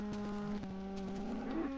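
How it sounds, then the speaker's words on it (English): A cow moos in the video game Minecraft, a steady low drawn-out call with harmonic layers over game background sounds, with no talking. "Come here, cow."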